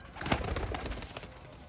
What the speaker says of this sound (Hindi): ये काले मुंह वाले शेखों वाले कबूतर हैं